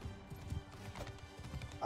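Horse hooves clatter in an irregular clip-clop during a mounted battle in Mount & Blade 2 Bannerlord, with busy game noise mixed in.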